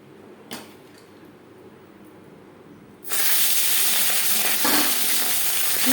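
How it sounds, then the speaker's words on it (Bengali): Marinated tangra fish dropped into hot refined oil sets off a loud, steady broadband sizzle halfway through, after a quiet stretch with a single soft knock; the frying hiss continues close and unbroken to the end. "সবার প্রথমে মাছ ভেজে নেব"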